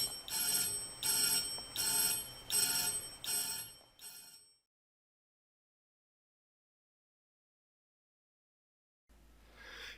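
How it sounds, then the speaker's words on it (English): An electric bell rings loudly in bursts as air returns to a vacuum chamber, then cuts to silence before a faint return at the end. "This annoying ringing bell cannot be heard because there's no air in this chamber."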